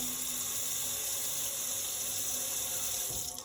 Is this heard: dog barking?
no